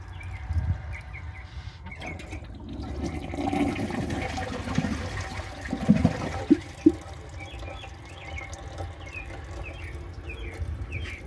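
A 2011 Kohler Rialto Ingenium toilet flushes a dish towel with rushing, gurgling water, a few sharp squeaks and clunks partway through, then trickling and sucking as the bowl drains.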